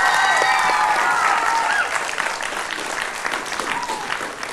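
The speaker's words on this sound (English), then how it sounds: "Let's have a round of applause." Steady applause from a TV studio audience on a 1989 children's game show, loud and continuous at first and easing slightly toward the end, with a few voices over it.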